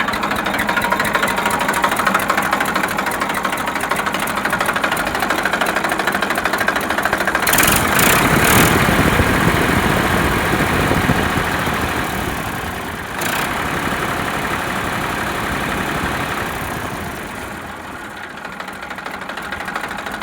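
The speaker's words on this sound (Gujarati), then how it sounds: "પહેલાં તમે ટ્રેક્ટરના એન્જિનનો વિડીયો જોઈ લો" Massey Ferguson 1035 DI tractor engine idling, a steady close diesel drone running the whole time with a brief louder surge partway through and no voices.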